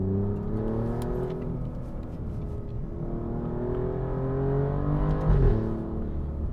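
An Alfa Romeo Giulia Quadrifoglio pulls hard through the gears on an open road, its engine note rising loud and close, then dipping briefly at a gearshift before climbing again.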